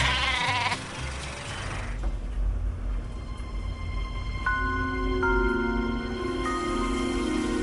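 Sheep bleat on a farm, several drawn-out wavering calls from nearby animals overlapping one another, steady and fairly loud against a quiet rural background.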